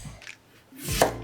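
A knife cuts through daikon radish on a cutting board with one or two crisp, close chopping knocks and a short pause between them.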